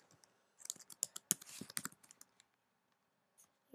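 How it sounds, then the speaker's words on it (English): Rapid bursts of keystrokes on a computer keyboard as a password is typed, close and clear, in an otherwise quiet room with no talk. "say I type a random password"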